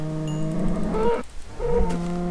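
Minecraft cows mooing in the video game, two drawn-out lowing calls with a short gap between them, loud and close, with no talk over them.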